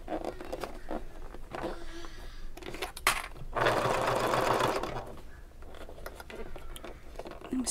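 A domestic sewing machine stitching a fabric bag runs in steady whirring bursts with short pauses between stitching runs, close and fairly loud with no talk.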